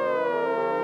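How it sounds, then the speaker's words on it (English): A brief burst of a wailing siren tone, loud and steady, heard on its own in a dance crew's performance track. "hear them sirens?"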